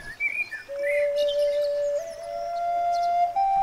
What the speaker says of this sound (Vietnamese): Thì ra là một chàng trai đang ngồi thổi sáo.